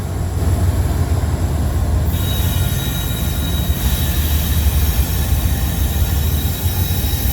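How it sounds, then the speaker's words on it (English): A freight train carrying piggyback cars rumbles past close by in a loud, continuous roll, with a thin, high wheel squeal rising partway through. "the piggyback cars went by on that train"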